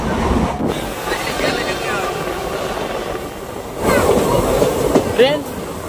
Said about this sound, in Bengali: ট্রেন ঢুকছে এখন আমজঙ্গা স্টেশনে।